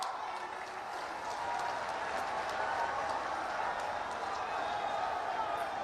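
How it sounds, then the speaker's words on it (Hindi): A crowd at a public development-initiative ceremony applauds loudly and continuously, a dense wash of clapping that swells slightly after the first second and holds steady. "आप सबकी जोरदार तालियों के साथ।"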